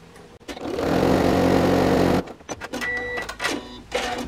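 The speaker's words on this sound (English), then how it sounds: "along that folded edge, we're going to top stitch again, just about 1/8 of an inch or 3 mil away from the top." A sewing machine top stitching along the folded edge of a fabric coin purse pocket, a steady loud motor whir for about two seconds, then short stop-start bursts of stitching.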